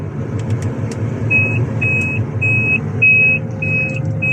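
Limit warning signal from the computer in the cab of a Sany STC800 truck crane, a series of high electronic beeps repeating about every half second over a steady idling engine rumble.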